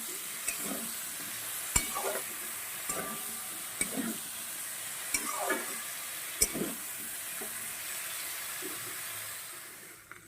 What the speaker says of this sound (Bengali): বেগুনটাও একটু কষিয়ে নেব সামান্য একটু ভাজা ভাজা হলে